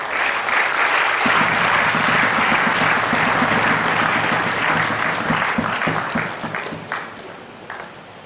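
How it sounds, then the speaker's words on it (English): At a school awards ceremony in Akwa Ibom State, the audience welcomes the chairman with full, steady applause that swells, then tapers off near the end, with a low hum beneath it. "please give a warm welcome, a warm applause to our chairman"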